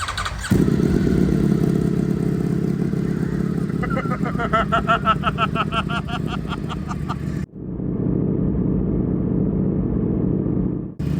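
A Ducati motorcycle with an aftermarket exhaust roars deep and loud, revving up with rising rapid pulses, dropping off briefly, then rumbling again at a steady idle.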